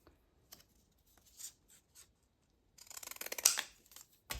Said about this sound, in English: And I've got some of these scallop scissors.